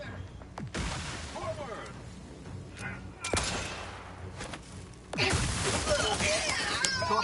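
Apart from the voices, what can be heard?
grenade detonation and gunfire in The Outer Worlds 2 video game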